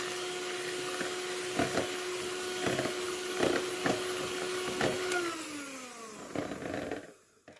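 An electric mixer beats eggs for a cake in a home kitchen, a steady loud whirring whine with rhythmic clacks of beaters against the bowl, then the motor winds down and stops near the end.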